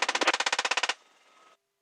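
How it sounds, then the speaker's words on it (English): A rapid burst of heavy machine-gun fire from a UH-1Y Huey helicopter door gun, about fifteen evenly spaced loud shots, followed by a fading rumble, silence, then a short new burst. "Left gun, open fire."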